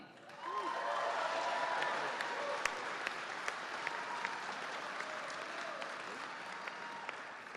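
A crowd at a Dane County, Wisconsin rally welcomes Congressman Mark Pocan with sustained applause that swells quickly and stays strong, with scattered cheers and a few sharp claps standing out.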